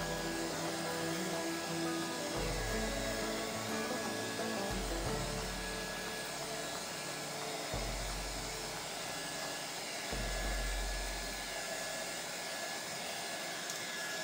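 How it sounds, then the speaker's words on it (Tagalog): A heat blower drying a printed motorcycle temporary plate roars steadily nearby, its airy whoosh dipping and surging as it's switched or moved every few seconds. "Patuyin lang natin sa saglit gamit ang blower."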